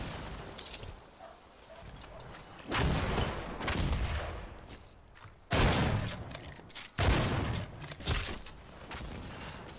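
Shotgun fire in the DOOM open beta: several loud, broadband blasts spaced a few seconds apart, each with a short decaying tail, over a low rumbling game backdrop.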